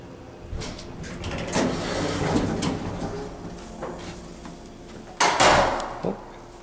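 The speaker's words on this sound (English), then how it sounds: "Oh, that was the door." A Schindler HT hydraulic elevator door slides on its track, a moderate mechanical rumble with a few sharp clunks and a louder burst near the end as the panel settles.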